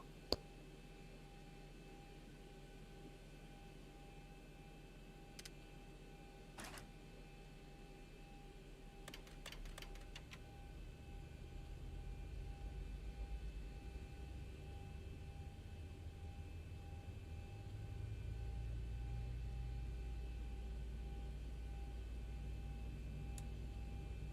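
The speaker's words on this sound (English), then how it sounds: "Starting number 1 engine" In the Zibomod flight simulator, the number 1 aircraft engine starts up. A low rumble swells gradually over a steady cockpit hum, and a few sharp switch clicks are heard early on. No one speaks.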